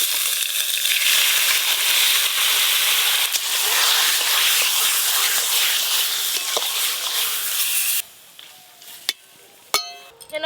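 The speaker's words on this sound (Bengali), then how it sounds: "লোটে মাছ মানেই জল, এই কড়ায় দেওয়ার সাথে সাথেই মাছ থেকে জল বেরোবে। সব মাছ কোড়াতে দিয়ে দেব।" Bombay duck (lote fish), salted and turmeric-rubbed, sizzles loudly in a hot wok, a steady dense frying hiss for most of the stretch before it drops away to quieter crackles and a few sharp clinks near the end.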